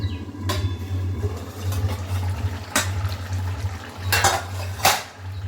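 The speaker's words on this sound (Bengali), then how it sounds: "ঢাকাটাকে তুলে এবারে দেখুন নাড়িয়ে নিচ্ছি।" A lid comes off a pan and jackfruit curry with shrimp is stirred, with several sharp metallic clinks of utensil against pan over a steady low cooking hum.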